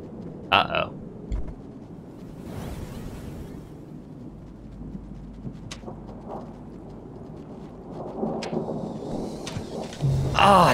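Rain and thunder in a modded video game, with broadband rain hiss throughout and a few sharp thunder cracks and rumbles, the loudest near the end, while a voice speaks briefly now and then.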